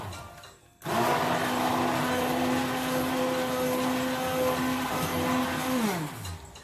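An electric blender starts sharply and whirs callaloo greens for about five seconds with a loud, steady motor drone, then winds down at the end, close and without talk.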